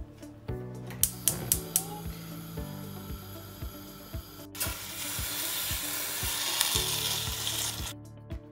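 Peanut sauce ingredients with meat frying in a pan, a steady sizzle interrupted by clattering utensil knocks and stirring, loud and close with no talk.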